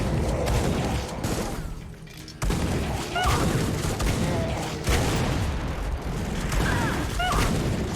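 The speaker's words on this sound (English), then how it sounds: "Just fucking listen to this shotgun" A shotgun blasts in the indie first-person shooter Supplice, several heavy booming shots spaced a few seconds apart amid clattering combat effects and mechanical handling noises, loud and close.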